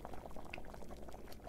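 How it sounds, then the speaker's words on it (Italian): Water bubbling at a boil in a horror RPG game scene, a steady, continuous low roiling hiss heard close and alone, with no talk over it. "sto bollendo l'acqua"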